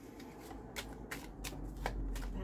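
Tarot cards are shuffled and drawn by hand for a horoscope reading, a close, quiet series of riffling flicks and soft slaps in an uneven rhythm.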